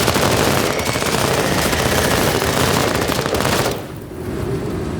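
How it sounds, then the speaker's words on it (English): Sustained machine-gun fire in a MENACE (BattleTech) battle, dense rapid bursts at high level for nearly four seconds before easing into a quieter rumble, with no voices. "We are under heavy fire."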